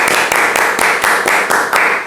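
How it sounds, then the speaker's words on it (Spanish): An audience applauds a game-show contestant at the close of a Spanish-language word quiz, steady dense clapping with periodic swells, close and loud throughout. "también un aplauso para nuestro compañero Juan Pablo."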